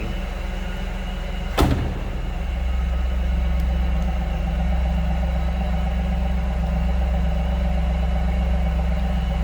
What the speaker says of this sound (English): Nice sounding car, nothing over the top as far as exhaust goes